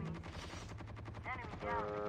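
Rapid gunfire rattles in Call of Duty Mobile, a fast automatic burst of evenly spaced shots at moderate distance, overlaid with a brief tonal game effect and a voice near the end.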